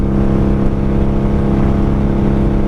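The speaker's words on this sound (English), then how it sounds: "It just gets really loud because you have the loud, open, wide open drag pipes from Jardine." A 1995 Honda motorcycle fitted with wide-open Jardine drag pipes roars loudly and steadily up close, a deep, rough, sustained exhaust drone with no pauses and no voices.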